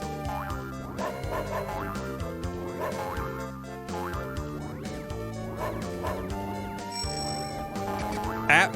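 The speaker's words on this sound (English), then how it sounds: "There's a dog in here?" Chiptune dog barks from Super Mario Land 2, short yips repeating in rhythm over bouncy game music and layered with it, with a brief burst near the end.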